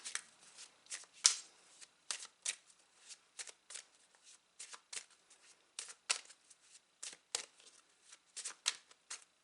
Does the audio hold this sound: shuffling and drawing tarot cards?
yes